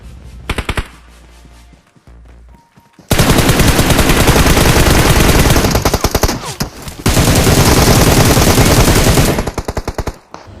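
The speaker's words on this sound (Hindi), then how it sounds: "मुझे यहाँ क्लोज से गन फायर का साउंड आता है" Close-range automatic gunfire in the mobile game PUBG Mobile: loud, dense rapid-fire bursts after a brief quieter opening, continuing almost without pause, then tapering into a few scattered shots near the end.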